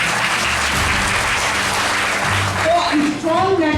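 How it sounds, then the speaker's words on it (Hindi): Loud applause from a seminar audience at a professional networking talk: thick, continuous clapping close up, and a voice starts speaking as the clapping tapers near the end. "जोरदार तालियां।"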